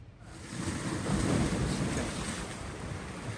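Rough surf churning and crashing continuously near the shore, a loud broadband wash with wind noise buffeting the microphone.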